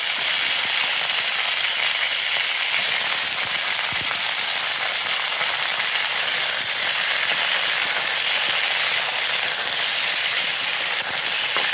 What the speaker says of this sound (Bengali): এবার আমি ফোড়ন দিলাম